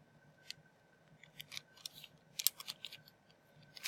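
Patty paper being folded and creased by hand, a series of short crisp crinkles and snaps, close and fairly quiet, with no talk.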